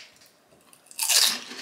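A loud, sharp crunch of teeth biting into crispy Indian food, sudden and close after a near-silent moment, with some softer crackle trailing off.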